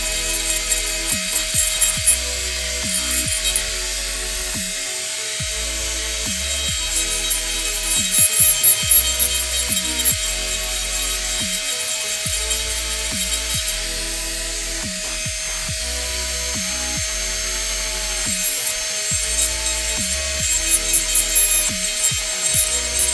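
Hand carving of wood while hollowing out the mouth of a carved figure, a steady series of close rasping, scraping strokes over a constant background hum, with no talk.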